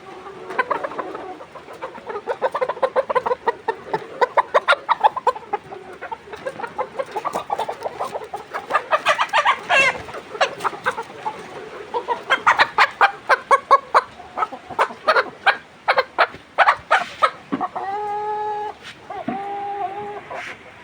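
Several 123-day-old layer chickens cluck rapidly and continuously close by while being weighed, with repeated short bursts and a few longer squawking calls near the end.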